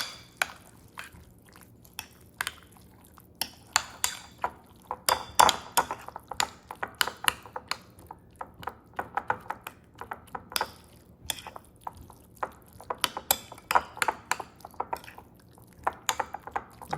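Eggplant choka with hot oil and onions being stirred in a pot, giving repeated close clinks and soft wet scrapes of a utensil against metal in an irregular rhythm, no talk.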